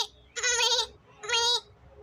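A person imitates a goat bleating during a school talent-show mimicry act, giving two nasal, wavering bleats of about half a second each, loud and close with a short pause between them.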